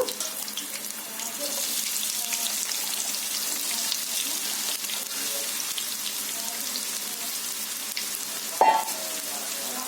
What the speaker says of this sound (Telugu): ఆయిల్ వేడయ్యాక ఉల్లిపాయ ముక్కలు వేసుకోవాలి కట్ చేసుకున్న ఉల్లిపాయ ముక్కలు